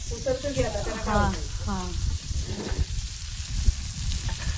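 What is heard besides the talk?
fish frying in a pan with red chili powder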